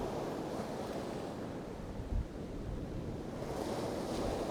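Steady wind and surf roar on the coast at Spurn Point, with waves washing in and wind buffeting the microphone. It is continuous and even throughout, with no voices.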